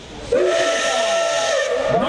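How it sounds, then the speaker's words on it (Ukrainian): A loud, sustained steam whistle blows close by over a constant hiss of escaping steam. "Ось так гучно, у хмарі диму та пари старенький локомотив прибуває на залізничний перон."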